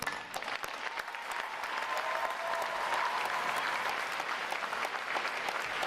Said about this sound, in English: please join me in a round of applause for all our families and friends that are here